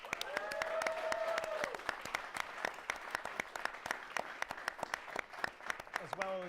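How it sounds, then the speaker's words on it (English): Audience applause for the game-winning team at a Destiny Trials of Osiris stream, a fairly quiet run of sharp, scattered claps with a voice talking over the start and again near the end. "Let's have a final round of applause for our game-winning team today."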